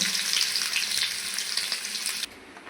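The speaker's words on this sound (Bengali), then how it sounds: "আমি এখন রসুন আর পেঁয়াজ দিয়ে দিব রসুন আর পেঁয়াজ ভালো করে ভেজে নেব" Garlic and onion sizzle in hot oil in a wok, a dense continuous frying hiss that runs strongly for about two seconds and then drops abruptly to a softer sizzle, with no voices.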